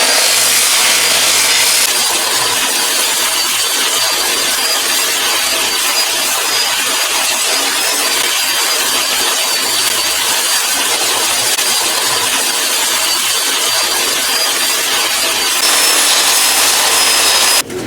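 Rust is ground off the metal of a Harbor Freight trailer in a continuous harsh, loud abrasive rasp with a high whine, steady for the whole stretch with no talk.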